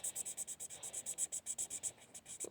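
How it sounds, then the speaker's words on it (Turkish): A red pencil colouring in an apple drawing on paper makes quick, rhythmic scratchy strokes, about eight per second, close up and steady, with no voices. "Şimdi arkadaşlar kırmızı kalemimizi alıyoruz. Ve elmamızı boyamaya başlıyoruz."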